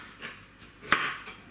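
Knife cutting tomatoes into thick rings on a cutting board for stewed chicken hearts with vegetables, heard as a few soft, separate chopping taps, the sharpest one near the middle, close and fairly quiet with no talking.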